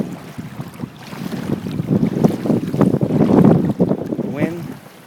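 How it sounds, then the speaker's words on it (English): Hurricane-force wind roars and buffets across a flooded neighborhood, gusting loudly with constant rumbling, while generators run somewhere underneath the turbulent wind noise. "All you hear is generators,"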